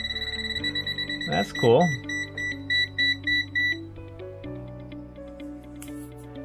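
A TopTes PT520A gas leak detector beeps in a steady run of short electronic tones as it picks up gasoline fumes from a half-full gas can, with a brief spoken remark partway through.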